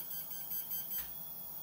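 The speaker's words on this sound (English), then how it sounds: "putting this here makes it at least beep" A Bantam desktop CNC machine gives faint, thin electronic beeps in a quiet room, followed by a soft click.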